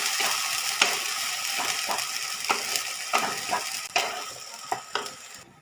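Bottle gourd leaf paste stirred and frying in a pan, a steady sizzle broken by repeated scraping strokes of the spoon against the pan, close and clear with no talk.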